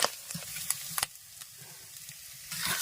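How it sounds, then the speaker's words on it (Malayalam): Grated coconut fries in oil with a steady sizzle, with sharp scraping clicks from stirring and a louder crackling burst near the end. "ഇതൊന്ന് വറുത്തെടുക്കണം നമ്മൾ."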